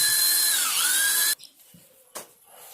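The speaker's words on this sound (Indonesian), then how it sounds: "Dan setelah ini kita bor, kita akan masukkan pisar S6." A power drill bores into hard concrete or masonry while fitting the rail of an aluminium sliding door, its high whine loud and steady for over a second before cutting off, followed by a few faint knocks and scrapes.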